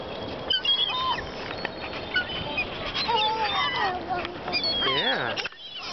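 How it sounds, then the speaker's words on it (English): Hungry seagulls call in a noisy, overlapping chorus of honking and squawking cries that fill the whole stretch, with people talking underneath. "The seagulls are really hungry?"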